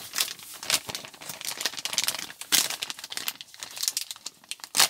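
Plastic bag crinkling and crackling as it is pulled open, a steady run of close, sharp rustles with a few louder tearing bursts, no voices.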